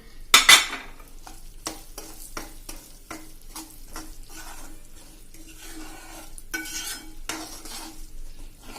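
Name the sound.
stirring raisins and nuts frying in a pan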